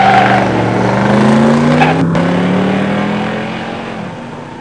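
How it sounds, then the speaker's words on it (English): Drag race between a 1970 Cuda AAR 340 six-pack automatic and a 1985 Mustang 302 five-speed, with loud engine roar rising in pitch through acceleration, then fading as the cars pull away. "And in the near lane, Jim Ziebert's 70 Cuda AAR 340 6-pack automatic."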